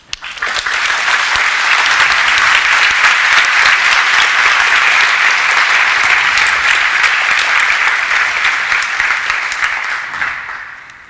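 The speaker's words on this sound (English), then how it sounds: "you should give them a round of applause" Conference audience applause at a developer talk, loud sustained clapping from a large crowd that swells quickly, holds steady for about ten seconds and fades at the end.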